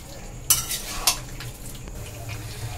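Boiled chickpeas are stirred and fried with spices in a pan, with two sharp scrapes of the spoon against the metal over a low, steady sizzle.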